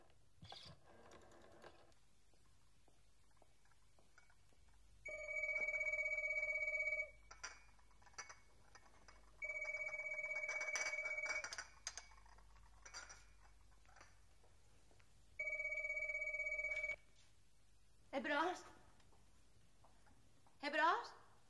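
An old landline telephone bell rings in repeated bursts of about two seconds with pauses between, loud and close, with clinking and brief voices in the quieter gaps.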